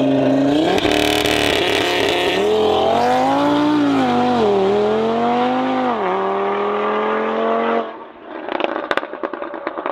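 Audi RS 8V engine roaring loud and close, its note rising and falling through sustained revs for about eight seconds before cutting off into scattered crackles and pops.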